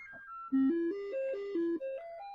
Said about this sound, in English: there's the sound test. There's the magical SID chip.